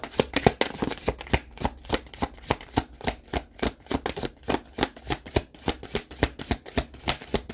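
A deck of cards being shuffled for a tarot-style reading, heard as a long run of fast, evenly spaced riffling snaps, close and crisp, with no talking.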